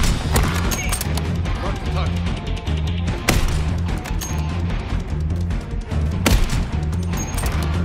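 Sniper rifle shots in the Warzone shooter game on the Urzikstan map: two loud, sharp cracks land about three seconds apart over steady background battle noise and voices.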